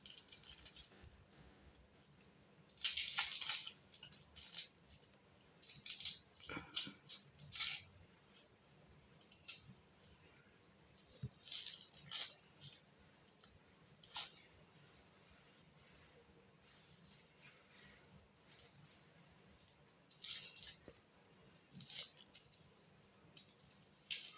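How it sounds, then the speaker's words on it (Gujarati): A knife trims and peels onions for Kathiyawadi onion khariyu, with scattered crisp cuts, scrapes and papery rustles of skin coming in irregular bursts close by in an otherwise quiet kitchen. "તો આપણે પહેલાં ડુંગળીને કાપી લઈશું તો પહેલાં ઉપરનો નીચેનો ભાગ કાપી અને આપણે એના છોતરા કાઢી નાખશું"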